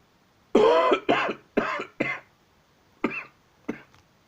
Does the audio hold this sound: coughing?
yes